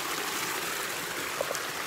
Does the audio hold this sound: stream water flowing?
yes